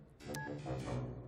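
Phone keypad tones beep quietly in quick succession as a number is dialed, a few short electronic tones over soft background sound.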